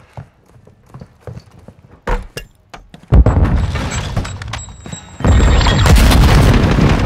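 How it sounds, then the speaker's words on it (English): Airstrike explosions in Call of Duty Modern Warfare on the Berenberg Hotel map, heavy booming blasts and thuds, scattered at first and then building into a dense, loud continuous roar of detonations. "Friendly airstrike on the way"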